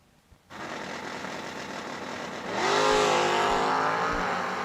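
A Camaro drag race car launches off the line at a World Wide Technology Raceway drag race, its engine jumping from a steady loud idle to a roaring, rising rev as it pulls away, with no one speaking.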